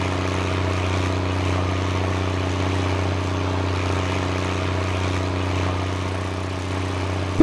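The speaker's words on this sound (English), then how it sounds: "a pretty loud little tractor," Loud little tractor engine in Farming Simulator 19 drones steadily and evenly for the whole stretch, with a brief bump right at the end.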